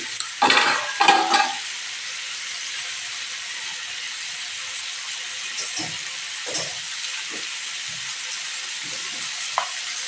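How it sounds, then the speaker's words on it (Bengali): Taro and potato curry sautés in a pan with a constant hissing sizzle, opened by a couple of loud scraping stirs, then softer occasional spatula scrapes over the steady frying sound. "5 মিনিট মতো আমি কষতে দেবো।"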